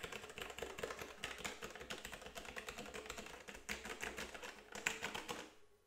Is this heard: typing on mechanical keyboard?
yes